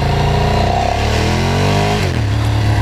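Ducati Streetfighter track motorcycle engine winding down through lazy downshifts, a loud close rising-and-falling exhaust blat with stepped pitch drops, steady and continuous throughout.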